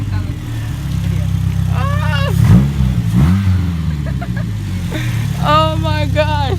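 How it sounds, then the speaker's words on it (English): A 1996 Chevy Cavalier engine with its exhaust removed, revving loudly and roughly under close conversation, its deep rumble rising and falling through short surges. "Here, rev it. Rev it."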